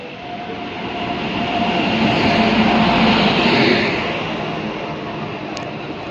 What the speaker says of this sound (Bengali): সো ফাইনালি আমাদের ট্রেন চলে এসেছে,